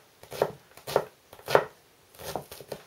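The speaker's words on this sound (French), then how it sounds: "pour bien couper l'oignon, rapide et efficace, c'est comme ça" A knife chops an onion on a board in five crisp, evenly spaced strokes, close and distinct with brief quiet between cuts.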